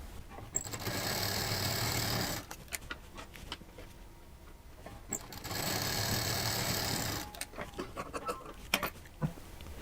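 Electric sewing machine stitching pieces of a fabric patchwork mat, two steady whirring runs of about two seconds each, close and clear, separated by handling clicks and cloth rustle.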